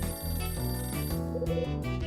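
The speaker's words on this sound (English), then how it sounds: "That's my phone. I'd better get that." A telephone rings in the video game Last Window: Secret of Cape West, a steady electronic ringtone over a game music bed, repeating tones filling the whole moment with no talk.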